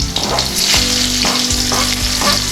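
Chopped garlic and mustard seeds fry with a loud, constant sizzle in a hot pan, while a utensil stirs with regular scraping strokes close by.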